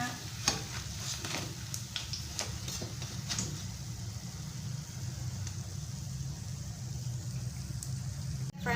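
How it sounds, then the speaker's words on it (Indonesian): Peanuts frying in hot oil for homemade batagor, a soft continuous sizzle with occasional sharp clicks of stirring near the start, then a steady low bubbling hiss. "aku sedang panaskan minyak dan aku goreng si kacangnya ini ya"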